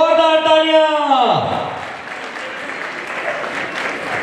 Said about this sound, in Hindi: पांचों कपल के लिए एक बार जोरदार तालियां।